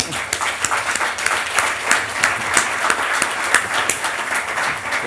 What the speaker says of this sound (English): Our panel deserves a really hearty round of applause.